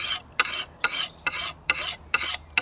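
An abrasive stone rasps along the edge of a double-bevelled axe in steady back-and-forth strokes, about seven gritty scrapes with brief pauses between them, close and alone.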